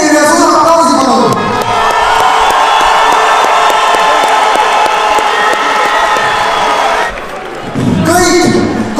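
A large crowd at a live event cheers, whoops and applauds loudly and continuously, with voices shouting over it. The noise dips briefly near the end before surging again.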